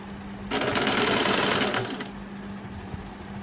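A sewing machine runs in a loud, close burst of fast stitching as pleats are sewn onto a baby's frill frock, then quiets to a low motor hum.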